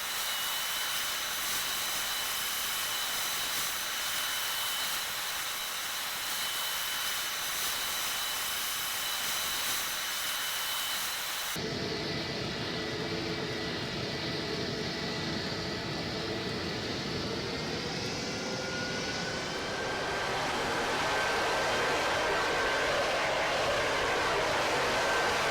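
Jet engines of an airliner taxiing in the PTFS flight game give a steady, broad hiss and whine that shifts partway through to a higher, rising turbine tone, continuous with no talking.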